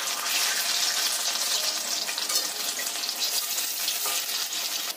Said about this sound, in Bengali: এই সেপ দেওয়া চিড়ের এগুলোকে বেসনের গোলায় বুড়িয়ে ভেজে নিতে হবে।